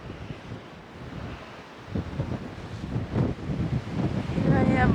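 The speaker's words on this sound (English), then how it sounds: "I love seeing water splashing against rock." Sea water on Jeju Island splashes and surges against rocks nearby while wind buffets the microphone, the wash swelling louder toward the end.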